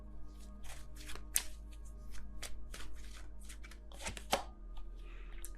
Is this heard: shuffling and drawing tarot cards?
yes